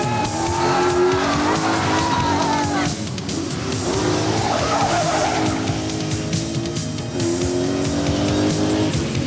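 A big Rover rally car driven fast along wet, narrow roads in Ulster. The engine roars and revs loudly the whole time, tyres hiss and squeal through the bends, and a voice talks underneath.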